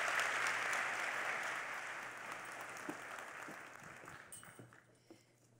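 At the MicroStrategy World 2019 keynote, a large crowd applauds Frank. The dense clapping starts full, then slowly fades, leaving a few scattered claps near the end.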